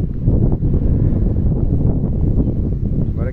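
Strong wind gusting across an open mountain viewpoint in the hills after rain, a steady loud broadband rush that buffets the microphone throughout with no voices.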